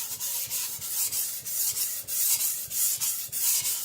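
An IKEA Chinese cleaver is sharpened on whetstones in rhythmic back-and-forth strokes, giving a steady gritty rasping scrape close up, about three strokes per second, with no talking.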